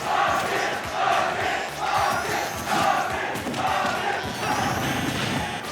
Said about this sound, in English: crowd has erupted for Purple H.